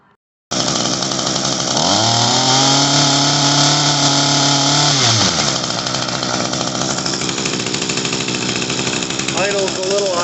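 An Echo SHC-212 hedge trimmer engine, just back from carburetor and fuel line repair, starts up and revs high for a few seconds before settling to a loud, steady, buzzing two-stroke idle.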